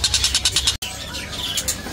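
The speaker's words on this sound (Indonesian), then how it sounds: "Ini ada burung cicak pantai ya." A small cicak pantai bird sings a quick series of repeated high chirps, close and clear, followed by a more warbling trill.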